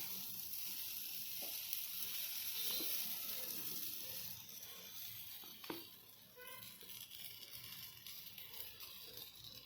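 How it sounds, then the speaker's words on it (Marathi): Appe batter sizzling in an appe pan, a soft, steady crackling hiss that carries on throughout, quiet and close, with a few faint clicks of a utensil. "परत हे बॅटर आपण टाकायचं आहे"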